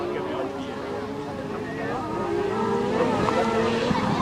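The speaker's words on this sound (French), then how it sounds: "dans ces châssis tubulaires équipés de moteurs de moto" Kart cross race with tubular-chassis karts powered by motorcycle engines, a steady roar of engines that swells louder toward the end, under continuous commentary.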